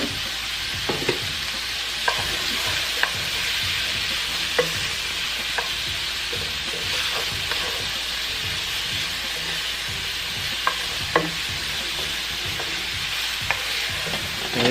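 Minced garlic and onions fry in a pan for pepper steak, a steady close sizzle broken by irregular scrapes and clicks of a utensil stirring throughout, with no talk.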